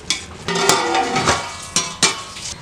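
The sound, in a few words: stirring half-cooked fish biryani rice in a pot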